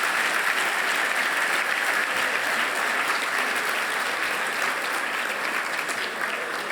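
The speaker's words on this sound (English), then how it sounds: "So we give all of our sponsors a round of applause tonight." Steady, dense applause from a gala dinner audience at a college of business 50th anniversary celebration, sustained and fairly loud throughout with no talking over it.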